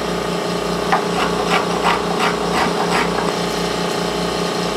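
Steady hand rasping and carving across the grain of a wooden electric guitar top, with repeated scraping strokes over a constant low machine hum, close and moderately loud.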